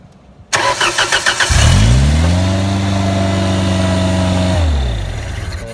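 Ford LRG-423 engine on a Genie Z45/22 lift cranking with a fast ticking starter, then catching and roaring up to a loud, steady, close run for several seconds before dropping off as it shuts down.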